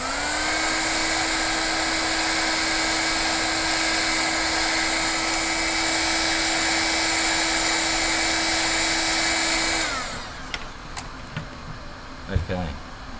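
A heat gun shrinks tubing over soldered LED wires, giving a loud steady whining blower hum for about ten seconds before it stops, followed by faint handling clicks.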